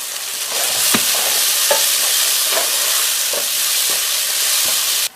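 A tomato mixture for mixed vegetable curry, salted and cooking in a pan, fries with a steady close sizzle while a spoon stirs it, leaving soft scraping strokes at irregular intervals.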